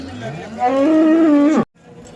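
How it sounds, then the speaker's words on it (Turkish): A cow standing with her male calf at a livestock market in Kırıkkale, Turkey gives one long, loud, close moo that rises and holds before cutting off abruptly, followed by quiet market background. "Yanında erkek buzağısıyla şu ineğimiz."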